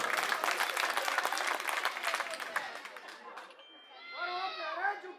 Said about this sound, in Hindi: इनके लिए ताली बजाओ एक बार जोरदार।